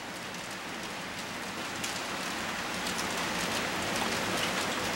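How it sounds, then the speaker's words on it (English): Steady rain falling on surfaces in Paris, heard from a window at home, a dense, even hiss of drops that stays constant throughout with no voices. "as you can see and probably hear, it's raining."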